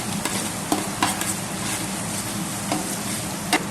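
Okra masala stirred in a hot pan, with a steady sizzle under several sharp spatula scrapes and clinks spaced a second or so apart.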